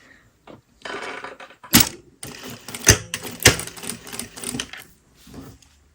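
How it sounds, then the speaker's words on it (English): A sewing machine stitches around a fabric patch in several uneven bursts of rapid mechanical whirring with sharp clunks, close and loud, separated by brief pauses. "I'm going to start stitching."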